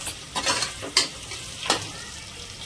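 Green peas drop into a hot pan of frying masala pulao, followed by a loud close sizzle and a few quick stirring scrapes that rise and fade in short bursts.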